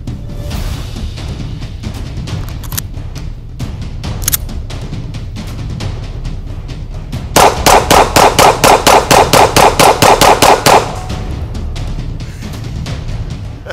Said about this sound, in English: On the range, Beretta 92X Performance, competition ready pistol. We're gonna shoot a little bit of steel.